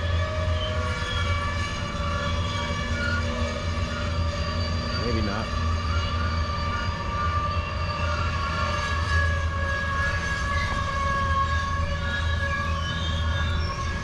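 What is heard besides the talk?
loaded freight train passing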